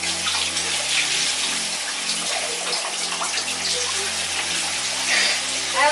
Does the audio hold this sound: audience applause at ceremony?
no